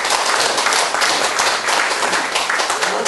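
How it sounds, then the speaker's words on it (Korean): Sustained applause from an audience at a peace forum gathering in Korea, dense steady clapping for about three seconds with no talking over it. "한번 우리 박수를 좀 한번"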